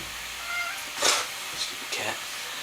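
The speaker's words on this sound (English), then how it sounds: "Stupid cat." A very noisy pet cat lets out one loud meow and a couple of softer, shorter cries over faint background hiss, while a person speaks quietly nearby.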